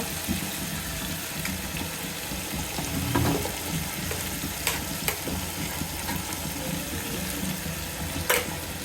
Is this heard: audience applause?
no